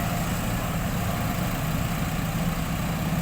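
A backhoe or rice harvester engine runs steadily at a rice field, a continuous loud low rumble with a mechanical drone and no pauses.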